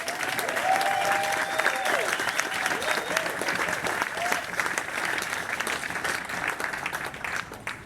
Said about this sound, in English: So let's now give them all a big round of applause.